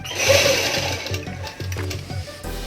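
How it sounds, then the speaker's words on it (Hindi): A sewing machine runs loud and close while stitching a seam on a kurti, its rapid needle strokes pulsing steadily, with a few brief pauses and restarts. "यहाँ भी हाफ इंच छोड़ करके के सिलाई चलाना है"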